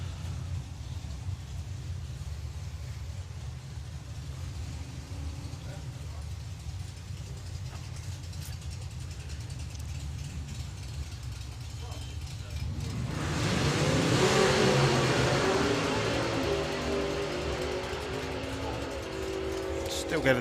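Drag racing cars launch and run down the strip, a distant engine roar swelling midway and fading, beneath steady commentary from an announcer.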